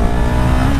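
A CF Moto 700 CL-X Heritage motorcycle engine revs in stock form, a loud close throaty growl held steady for under a second.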